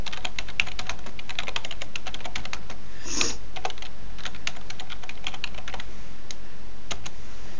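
Rapid, steady keystrokes on a computer keyboard as switch configuration commands are entered, close and clear, with one brief louder click midway and no talking.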